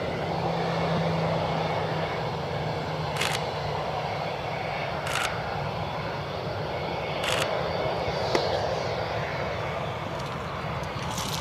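A United Boeing 737 Max airliner rolls onto the runway at Cleveland Hopkins airport, its jet engines giving a steady, loud broadband roar. A few sharp camera shutter clicks sound nearby.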